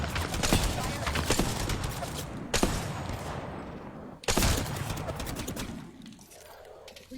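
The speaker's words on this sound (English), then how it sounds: "Getting shot at." Gunfire crackles through an Apex Legends match in sharp bursts, with two loud, close volleys standing out from a dense, continuous wash of game noise.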